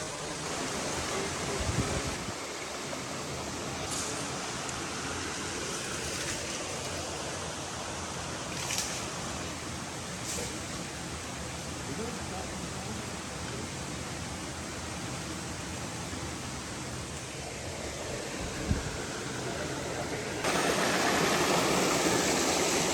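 A stream flows on a farm lot with a continuous, even rush of water, a broad steady hiss that holds throughout with brief faint knocks now and then.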